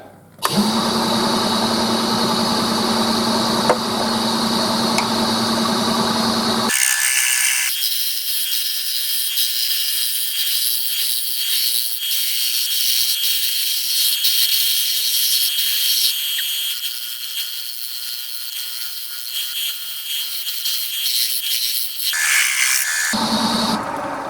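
A wood lathe turns a pitch pine bowl while the tenon is cut away. A steady motor hum gives way to a loud, sustained scraping hiss of tool on wood that runs for most of the clip and then stops.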